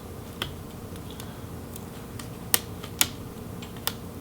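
Small plastic ribbon cable retainers on an HP Envy 17 laptop flip up with a few faint, sharp clicks spaced about half a second apart, close by in a quiet room.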